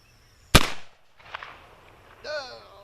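A Remington New Model Army cap-and-ball revolver fires a single loud, sharp report followed by a short decaying echo, then a brief voice and rustle close by.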